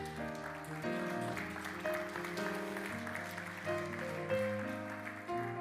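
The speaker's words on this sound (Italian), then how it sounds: "L'applauso va al maestro Diego Bassignana che ci ha tenuto compagnia finché prendevate posto in questo auditorium del seminario diocesano." Applause from an audience in a seminary auditorium for a conductor, a soft, continuous patter spread over sustained musical notes and chords that dominate the sound.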